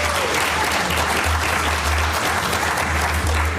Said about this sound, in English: Earned applause. That's good.